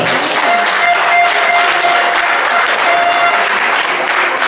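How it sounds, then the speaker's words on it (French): An audience at a 2016 Paris event bursts into loud, dense applause, many hands clapping together in a steady roar that holds for several seconds. "je pense qu'on peut les applaudir même s'ils ne sont pas là"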